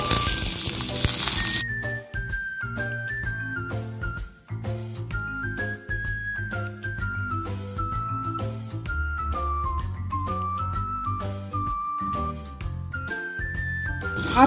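Potato pieces, bay leaf, dried red chilli and whole spices frying in hot oil, with a steady close sizzle under a melody of tuneful background music.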